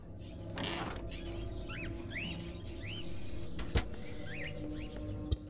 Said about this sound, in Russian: Птицы.